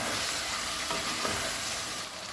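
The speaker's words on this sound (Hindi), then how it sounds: "दो कटे हुए टमाटर, हल्दी 1 चम्मच, अच्छे से मिक्स करेंगे।" Chopped tomatoes with a spoon of turmeric are stirred in a hot pan for a chicken and chickpea curry, with a steady sizzle and soft scraping of the utensil throughout and no talk.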